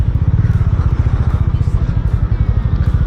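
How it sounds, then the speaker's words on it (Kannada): A trial motorcycle passes at close range, its engine thumping in a fast, even pulse that stays loud and steady the whole time. "ಅಲ್ಲೊಂದು ಟ್ರಯಲ್ ಬೈಕ್ ನಡೆದಿದೆ ನೋಡಿ"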